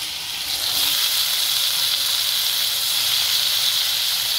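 Chopped cauliflower and potato hit hot oil and sizzle in a steady, loud, close hiss that runs unbroken, with no talk over it.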